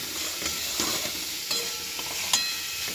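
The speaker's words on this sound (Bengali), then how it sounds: "কমিয়ে দিয়ে এটা একটু করে ভাজা হবে আর একটু করে নাড়তে হবে" Bottle gourd peels with garlic frying over low heat in a pan, a steady close sizzle broken by repeated scraping stirs and a few sharp utensil clinks.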